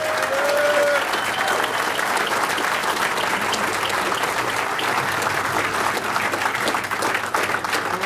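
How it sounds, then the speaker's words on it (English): Steady, sustained applause from an audience at a VFW Congressional Award ceremony honoring Senator Jon Tester, a dense even clapping that carries for several seconds. "Let's give a warm applause for Senator Jon Tester."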